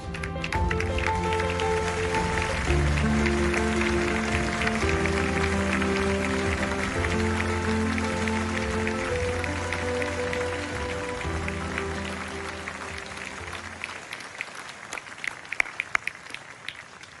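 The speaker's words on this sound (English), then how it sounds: "one final round of applause to all of tonight's honorees" An audience applauds the honorees at the Zayed Award for Human Fraternity ceremony, with sustained clapping under loud orchestral music. The clapping thins into a few scattered claps as the music fades.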